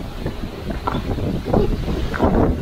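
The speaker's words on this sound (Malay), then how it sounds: "Angin pasang dah petang ni." Evening onshore wind at a clean beach buffets the microphone in uneven gusts, loud and close, with faint sea wash underneath and no talking.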